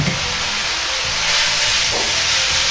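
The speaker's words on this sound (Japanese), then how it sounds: "戻した春雨を鍋に入れます" Rehydrated glass noodles go into a hot pan of sauce for a spicy beef and glass noodle stir-fry, giving a loud, continuous sizzling hiss with a few soft clunks and no voices.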